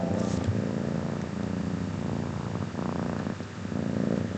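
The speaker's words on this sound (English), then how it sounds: "I don't know if the mic's picking up, but she's currently purring." A soft, steady cat purr rumbles continuously up close, quiet and even, with a few faint shifts in rhythm.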